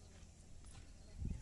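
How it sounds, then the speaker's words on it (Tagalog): A horse's hooves clip-clop on the ground somewhere near Mt. Mayon in Bicol, a few soft, low steps under faint background noise, growing slightly louder toward the end. "May kabayo pala dito."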